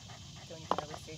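A dog pants softly in quick breaths during a training session, faint and close, with people's voices talking over it.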